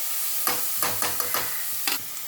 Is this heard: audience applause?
no